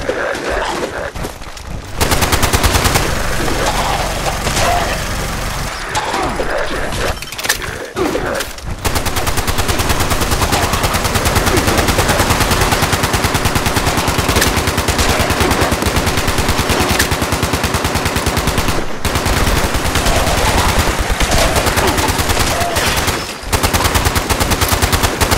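Continuous rapid gunfire from the video game Fallout 76, loud automatic bursts rattling almost nonstop, broken by a few short pauses early on and brief gaps later.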